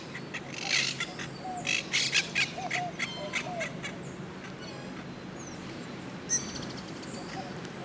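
A wild parrot in Old San Juan, Puerto Rico, calls from its nest in a quick series of harsh squawks, followed by quieter scattered calls against faint outdoor background noise.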